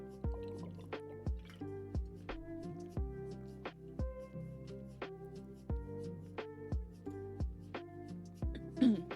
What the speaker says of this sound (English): One last drink of water. One last quick glug.